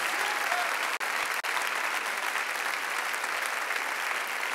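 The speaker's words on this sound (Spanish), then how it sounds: "Alguien tiene que aplaudirle con más carácter." Steady, dense applause from a church service congregation fills the whole stretch at a constant loudness, with two brief dropouts near the start.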